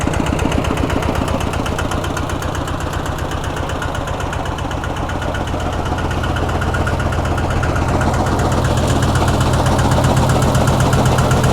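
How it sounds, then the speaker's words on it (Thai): A used small two-wheel farm tractor's engine idles with a fast, steady knocking chug. It stays loud and close throughout, and the tone shifts slightly toward the end. "เครื่องยนต์สวยๆเลยฮะ"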